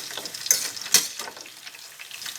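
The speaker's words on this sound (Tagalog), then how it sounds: "Piniprito ko pa." Chicken frying in a pan, a soft continuous sizzle with a couple of sharper pops or stirring scrapes, quiet and close, no talking.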